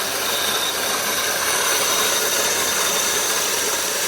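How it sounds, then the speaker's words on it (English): Vevor electric grain mill grinding wheat, a loud continuous harsh whirring roar that holds steady throughout with no talk. "Since then, I've got an electric grinder for in the house"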